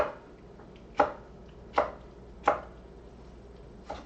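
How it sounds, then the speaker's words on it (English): A knife rough-chopping peppers on a cutting board for a Mexican stew: four distinct, sharp thuds spaced unevenly about a second apart, close and clear against a quiet kitchen background, no talk. "I'm just, once again, just kind of rough chopping them"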